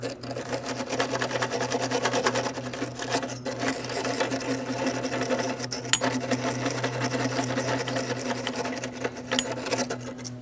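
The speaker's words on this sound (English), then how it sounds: "I'm going to use a wire brush, attempt to clean up some of this rust in this area." A wire brush scours rust near the front brake line and flex hose fitting of a 2005-2010 Chrysler 300, giving a continuous, fast, rhythmic rasping buzz that holds steady and close for about ten seconds, with no talk.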